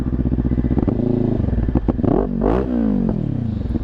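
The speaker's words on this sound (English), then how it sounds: "And this beautiful Toro exhaust, like I said, I have taken the baffle out." A Sinnis Terrain 380 motorcycle with a baffle-less Toro exhaust idles loudly nearby, then is revved in several blips that rise and fall in pitch before dropping back to a throbbing idle.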